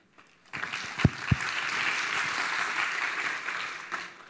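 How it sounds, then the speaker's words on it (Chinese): An audience at the HITCON security conference applauds to welcome a speaker, with a few sharp claps at first and then a steady round of clapping that fades out after about four seconds. "那我们掌声欢迎 ATDoc 带来演讲"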